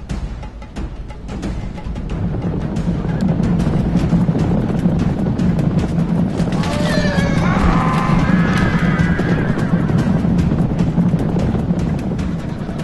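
A horse whinnies over a dense, steady din of galloping hooves and clashing noise as Persian and Macedonian cavalry charge in a video game battle, loud and continuous throughout.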